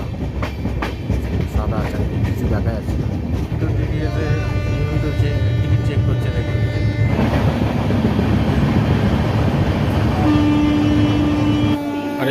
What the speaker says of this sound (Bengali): থেকে আমাদের ট্রেন বেরিয়ে যাচ্ছে